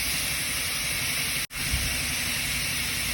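Onions sautéing in a pan for a restaurant-style chicken roast give a steady, close sizzling hiss that holds evenly, with one brief cut of silence partway through.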